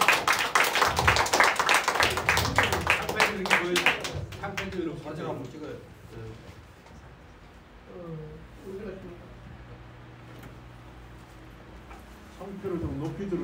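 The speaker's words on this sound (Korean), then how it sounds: "박수 쳐주시기 바랍니다." Applause at a Korean church revival association ceremony, dense clapping over the first few seconds that fades into a quieter hall where people talk and murmur, before a short burst of noise near the end.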